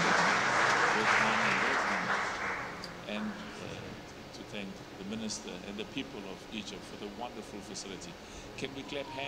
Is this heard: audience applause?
yes